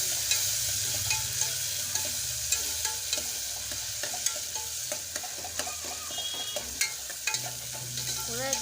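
Onions fry in oil for kothambari pulao while being stirred, a steady sizzle punctuated by frequent sharp scrapes and taps of a spoon against the pan.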